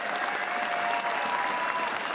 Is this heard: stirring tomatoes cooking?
no